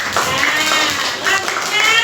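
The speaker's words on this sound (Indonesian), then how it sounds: "Iya, tepuk tangan, Gibran." Children clap their hands in a classroom at a teacher's prompt; a short burst of quick, close, fairly loud clapping with a voice murmuring underneath.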